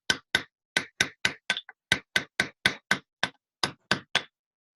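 Heavy blows from a large hammer ring out on metal during chasing and repoussé work, about fifteen sharp clanks in an uneven rhythm with brief pauses, loud and close.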